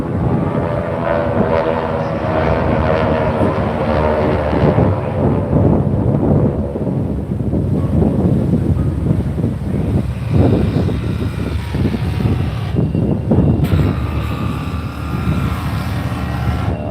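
Military aircraft at an air show roar past with a loud, continuous rumbling engine noise that swells and fades over the whole span, with a commentator talking over it.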